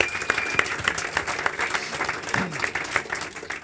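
Audience applause at a live celebrity talk show in Dinslaken, a lively burst of many hands clapping with irregular sharp claps standing out.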